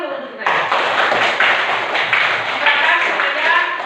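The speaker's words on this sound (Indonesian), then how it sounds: "Tepukan dulu untuk saya." Classroom of students clapping for a classmate about to lead a national song, a dense continuous patter of hands with faint voices underneath.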